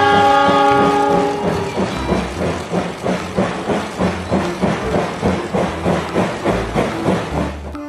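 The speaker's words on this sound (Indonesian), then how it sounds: "Yang ini kereta api." A toy train plays a horn-like tone, then chugs along with steady rhythmic clacking and hissing, close and fairly loud.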